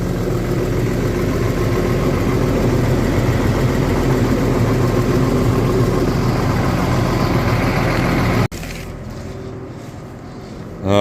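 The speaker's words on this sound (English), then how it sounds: "we're going to start the Bobcat and see where it's at" A Bobcat S205 skid steer, just fitted with a new alternator, runs with a loud, steady diesel engine rumble close by, then cuts abruptly to a quieter background hum near the end.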